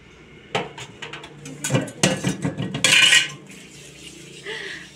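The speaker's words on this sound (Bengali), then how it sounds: "আমার মা দেখো বাসন মাজছে, পাতিল মাজছে" Dishes and pots being scrubbed and washed, with loud irregular clatters of metal utensils and pans knocking together, bursts of scraping, and a brief rush of water, close by.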